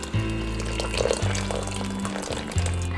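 A steady stream of 1.7 liters of water splashes into an Instant Pot, running continuously for a few seconds over a soft low hum.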